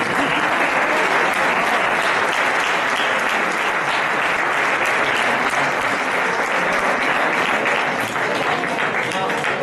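A crowd of listeners at a political talk with Mónica Oltra and Ernesto Ekaizer applauds loudly and continuously, dense hand-clapping filling the room at a steady level throughout.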